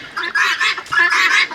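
A young hen, hatched this summer from a backyard flock, gives a run of close, loud clucks and squawks in repeated bursts over about a second and a half, with no talk.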